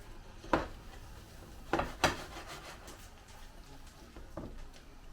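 A spatula mixes something in a bowl, giving a few sharp scrapes and knocks, then a softer rubbing that carries on quietly with no talking.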